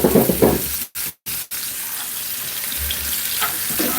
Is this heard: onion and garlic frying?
yes